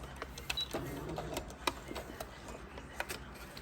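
A sewing machine back stitching ribbon onto sock fabric, giving short bursts of close, quiet mechanical ticking and clicking at an uneven rhythm, alone with no voices.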